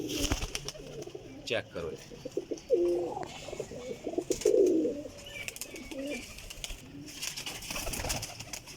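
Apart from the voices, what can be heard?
pigeons cooing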